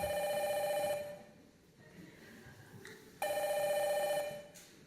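A telephone rings loudly in two bursts with a pause between, staged as a phone call in a church Easter musical performance, with no talking over it.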